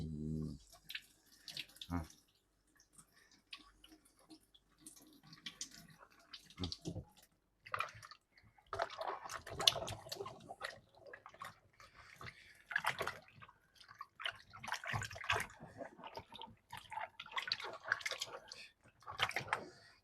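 Water splashes and trickles intermittently as jar lids are washed by hand in a basin at home while canning tomatoes, with irregular clinks and sloshes close by.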